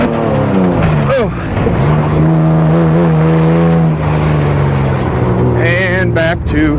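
A Subaru Baja lapping a race track, its engine droning loudly and steadily from inside the cabin, pitch rising and falling through gear changes, with a driver talking over it.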